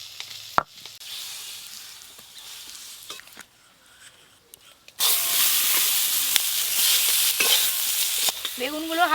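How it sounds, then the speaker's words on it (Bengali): Small eggplants frying in oil in a pan: after a quiet stretch with a few clinks, a loud, close sizzle bursts in and continues, with occasional stirring scrapes. "বেগুনগুলো হালকা করে ভাজা হয়ে গেল"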